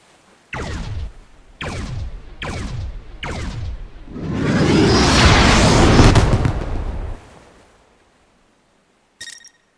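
An orbital strike from a Venator starship in the Galactic Contention video game: four whistling, falling impacts in steady succession, then a long, heavy, rumbling explosion that fades out, followed by a brief click.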